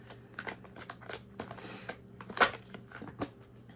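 Tarot cards being drawn and handled: a quick run of soft, papery flicks and slaps up close, with one sharper snap partway through, fairly quiet and with no talking.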